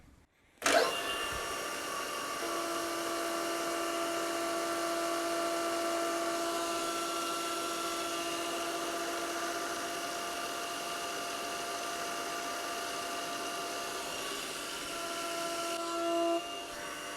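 A milling machine with a high-speed steel end mill cuts sheet metal at 3000 RPM, taking about 0.3 mm per pass, giving a steady whine with tonal hum that holds for the whole stretch. It sounds close and continuous, with no talking.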